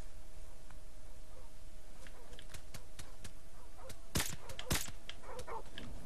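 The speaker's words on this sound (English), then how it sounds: "Oh, crikey. Dogs." Dogs in Call of Duty 4: Modern Warfare Remastered, 'All Ghillied Up' level, making a few sharp yips and barks over a steady background hum, with two louder bursts near the end.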